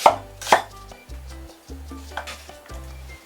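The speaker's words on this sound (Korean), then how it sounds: "그렇기 때문에 큼직큼직하게 대충 썰어주세요" A knife roughly chops potatoes and vegetables into large chunks on a cutting board with a few loud, uneven strokes and softer taps, while something sizzles faintly in the background.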